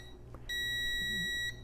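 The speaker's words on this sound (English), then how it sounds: "you hit the start button and there's your countdown timer." A countdown timer on a Slevio portable home gym beeping in one sustained, clear electronic tone lasting about a second, close and fairly quiet against faint room noise.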